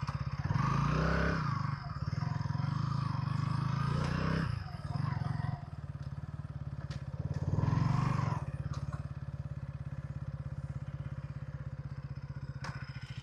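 KTM Duke 160 motorcycle being ridden, its engine running with a steady low throb that rises as it revs in a couple of surges early and mid-way, then settles into a rough idle.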